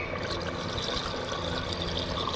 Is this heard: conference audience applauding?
no